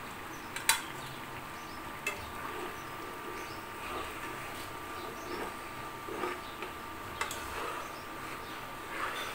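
Fish curry with pointed gourd being stirred in a pan, giving soft scrapes and light bubbling over a steady background hum, with a few sharp clinks of the spoon scattered through.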